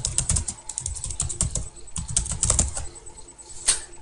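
Fast typing on a computer keyboard, a dense, close run of crisp key clicks with uneven bursts and short pauses, no voices.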